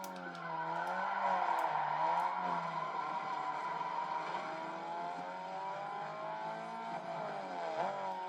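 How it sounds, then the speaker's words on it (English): A V8 race car engine in the video game Need for Speed ProStreet roars and revs continuously, its pitch rising and falling with gear changes, loud and close without any talking. "I hear that V8 roaring behind me."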